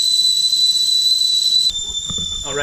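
A kettle whistles loudly and steadily as a sustained shrill tone, recorded with a GoPro Hero 5 onboard microphone; partway through the pitch drops slightly and a voice begins speaking beneath the continuing whistle.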